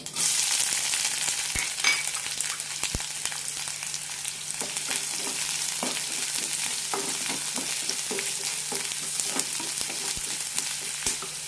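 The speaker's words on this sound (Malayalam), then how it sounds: "സവാള നന്നായി ചോക്കുന്നതുവരെ വഴറ്റാം" Continuous sizzling of onions sautéing in a pan with frequent scraping stirs and occasional clicks of a utensil, close and steady throughout.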